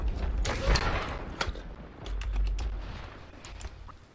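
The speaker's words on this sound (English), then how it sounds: "I am taking fire, friends." Video game gunfire crackles in rapid clustered bursts amid clanking mechanical effects, moderately loud and busy, with shots scattered across the whole stretch.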